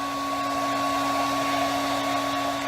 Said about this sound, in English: when I first started blow drying, I just had my blow dryer on